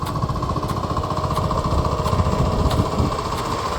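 A tractor engine works in a muddy rice paddy, its diesel clatter running loud and continuous close by, with a fast pulsing rhythm and a faint periodic knock.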